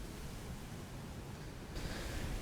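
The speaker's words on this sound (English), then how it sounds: "See what I mean about the wind making it tricky?" Wind blowing steadily outdoors at a stealth campsite on an abandoned golf course, a faint, broad, constant rushing noise that swells slightly near the end, with no voices.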